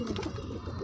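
Soft, low cooing of Madrasi pigeons, a brief murmuring call heard up close over a faint background hum.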